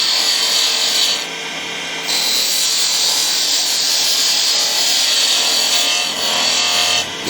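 A woodturning tool cuts into a spinning wooden vase on a lathe, a loud, continuous rasping hiss that briefly drops away twice as the tool lifts and returns.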